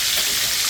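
Country fried steak with a breaded crust sizzling in a hot pan, giving a steady, bright, hissing crackle that stays even and close throughout a brief moment.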